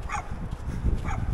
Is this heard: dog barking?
yes